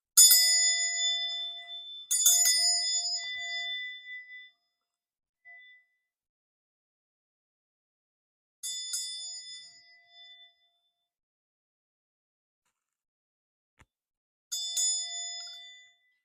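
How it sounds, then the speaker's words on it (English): A bell is struck four times with long gaps between, each clear metallic ring decaying slowly into silence. "so let's do a quick ringing of the bell"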